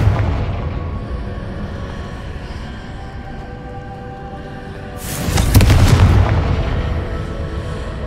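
The Confringo blast spell in Hogwarts Legacy erupts midway, a loud booming burst that swells and decays over a low rumbling game backdrop.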